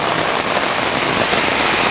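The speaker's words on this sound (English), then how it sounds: "it's raining hard" Heavy rain pours down outdoors in a loud, dense, unbroken roar of drops striking surfaces close by.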